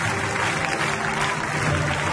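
A church congregation applauding and cheering in praise during a worship service, steady dense clapping filling the whole moment without a break.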